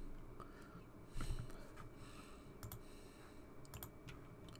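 A CMD command is typed on a computer keyboard as a faint run of soft, uneven key clicks, heard close over quiet breathing.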